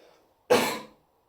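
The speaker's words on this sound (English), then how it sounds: "I'm gonna have a cough break." A single sharp cough, close and fairly loud, breaks a quiet moment during an antique sword unboxing and fades over about half a second.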